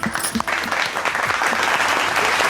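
Big round of applause for the finalists of a televised cooking contest grand finale, steady clapping from a crowd filling the whole moment, loud and close with no talk over it.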